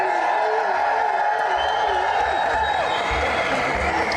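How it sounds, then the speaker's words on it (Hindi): A studio audience at a Pakistani television show claps and cheers in a steady, dense wash of applause that fills the whole stretch, with a murmur of crowd voices mixed in. "ज़रा और जोर से तालियां बजाएं"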